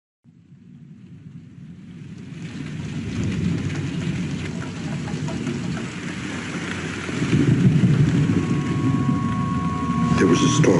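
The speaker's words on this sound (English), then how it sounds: "There was a storm." Thunderstorm with heavy rain in a movie trailer, a deep rumbling roll of thunder swelling from silence into a dense, continuous wash of rain and low rumble that grows louder toward the end.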